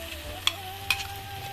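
Whole mace, nutmeg and cinnamon fry in hot oil for a goat and broiler meat curry, a steady low sizzle with a couple of sharp clinks of a spoon stirring against the pan.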